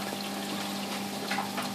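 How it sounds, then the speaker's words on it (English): A Resun LP4 air pump, rated about 40 litres a minute, runs steadily in a backyard aquaponics setup holding silver perch and goldfish, giving a constant close hum with a faint bubbling, watery wash and no talk. "So in here I've got a puppy proofed air pump, Resun LP4, 40 litres a minute I think."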